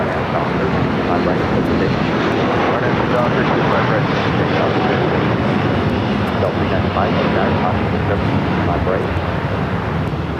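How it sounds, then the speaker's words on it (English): A Boeing 787 Dreamliner bound for Tokyo Narita rolls down runway 25R at LAX, its engines a loud, continuous broadband roar with wind buffeting, close and steady throughout. "the Dreamliner heading back to Tokyo Narita, now rolling down"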